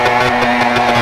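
Motorcycle engine in a MotoGP video game held at full throttle for a quickstart launch, a steady loud buzzing drone with a constant pitch and no gaps, close up and alone.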